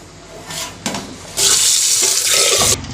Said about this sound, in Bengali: ডালকে আগে দুই তিনবার করে ধুয়ে নিলাম